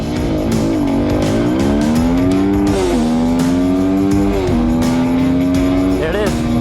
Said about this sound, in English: This is a fast motorcycle, and it doesn't feel wrapped out